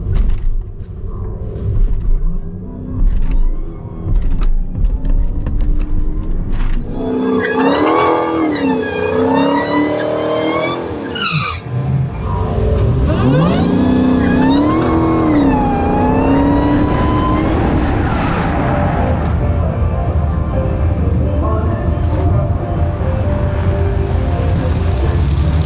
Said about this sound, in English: This modified Redeye Challenger, 920 horsepower on big drag radials, on beadlock wheels,